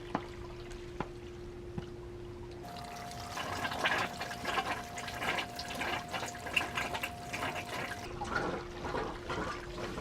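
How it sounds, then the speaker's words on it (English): A Fluval 206 aquarium canister filter refilling with water, a low steady hum that gives way to bubbling, gurgling water as air is pushed out the outlet, continuing for several seconds before easing off. "tank gurgling as the air comes out the output as water fills the filter and displaces it."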